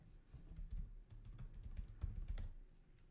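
Typing on a computer keyboard in a Type Racer game, a quick, steady run of close key clicks with brief pauses, fairly soft and alone without talk.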